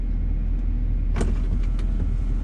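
Electric rear window shades of a $97,000 Porsche Cayenne whir briefly with a soft motor sound against a steady low cabin hum.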